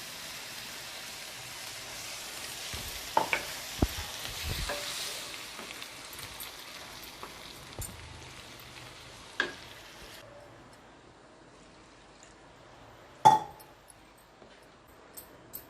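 Kadappa gravy with coconut, ginger, garlic, green chilli and a little water simmers and sizzles in a pan while a spoon stirs it, with scattered clicks and scrapes against the pan.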